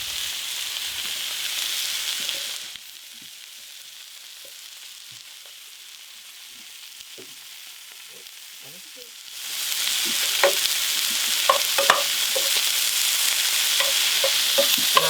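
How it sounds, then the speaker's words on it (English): Cremini mushrooms sautéing in about three tablespoons of melted butter in a saucepan give a steady sizzle that drops to a quiet simmer mid-way, then returns louder with scattered crackles and pops. "I have about 3 tablespoons of butter that I've melted here in my saucepan, and I'm going to add my mushrooms to it."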